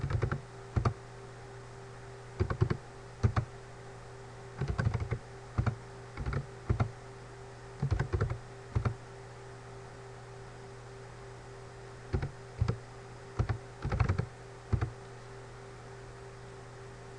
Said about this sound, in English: We type in a number of names here.